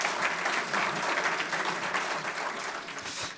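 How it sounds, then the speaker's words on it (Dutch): An audience at a 2018 municipal election debate in Papendrecht applauds continuously, a dense, steady clapping that fills the whole stretch without pause. "Geef ze even een applaus."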